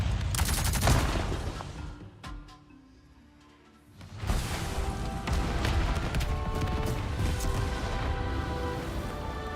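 Rapid gunfire in the Avatar: Frontiers of Pandora video game, bursts of shots and crashing impacts with a brief lull in the middle before heavy firing resumes, loud and continuous.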